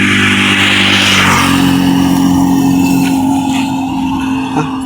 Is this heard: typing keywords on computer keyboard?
no